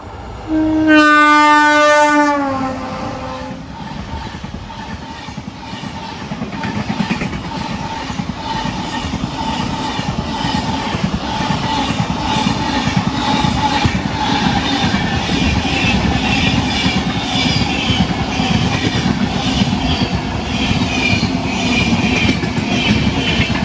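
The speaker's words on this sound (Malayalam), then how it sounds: "അങ്ങനെ നമ്മുടെ ആദ്യത്തെ ട്രെയിൻ പാസ് ചെയ്ത് പോയിരിക്കുകയാണ്." A Thiruvananthapuram North to Mumbai express passenger train passes close by, opening with a loud, brief multi-tone horn blast and then a sustained, steady roar of wheels and cars rolling past without pause.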